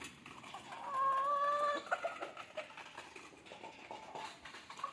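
Country chickens and a rooster at a farmyard feeding spot, with a drawn-out fowl call in the first two seconds followed by scattered clucks and bird chatter at moderate distance.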